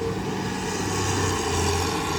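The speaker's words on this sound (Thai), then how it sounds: "ขับรถไมโครครับ ทอยดินครับวันนี้" A small micro tractor engine drones steadily and close while digging very hard soil along a canal, a continuous even rumble with no voices.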